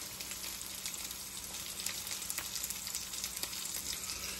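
A hash brown fries in a pan with a steady, moderately quiet sizzle and scattered tiny crackles and pops, with no voices over it.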